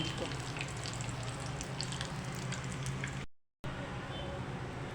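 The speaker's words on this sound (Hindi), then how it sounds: "अब 2 मिनट दूसरी साइड से भी फ्राई कर लेते हैं इसको।" Chicken vegetable kababs frying in a pan over a medium flame, giving off a steady, quiet sizzle and crackle throughout, briefly cut to silence near the end.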